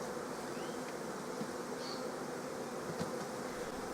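Honeybees hum steadily inside a hive being inspected for emergency autumn queen cells, a dense continuous buzz close by with a few faint knocks and individual bees whining past.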